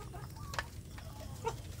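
Free-range village chickens in a farm's grow-out section cluck softly in short bursts over a steady low farmyard hum, a few birds calling close by.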